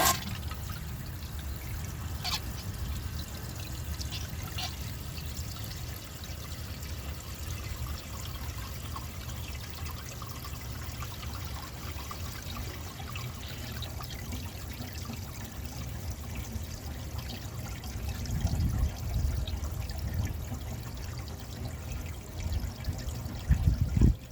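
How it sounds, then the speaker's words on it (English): A defective 1996 Crane Hymont toilet with an overfilled tank flushes slowly, giving a long, fairly quiet trickling and pouring of water that runs steadily for over twenty seconds and gurgles a little louder toward the end. "So I'm going to overfill the tank and see how it flushes like that."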